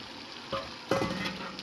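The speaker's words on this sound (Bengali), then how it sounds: "এবার দিয়ে দিচ্ছি আলু," Pre-fried potatoes tossed into oil with ginger-garlic paste, cumin, turmeric and chilli powder, stirred so a steady close sizzle is broken by scraping strokes and a few louder bursts.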